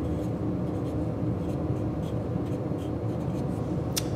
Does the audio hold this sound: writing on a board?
yes